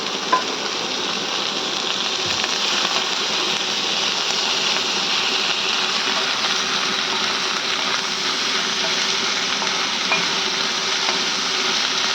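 Prawns and leafy greens frying together in a pan over low heat, giving a steady, close sizzle that runs unbroken throughout with a few faint stirring clicks.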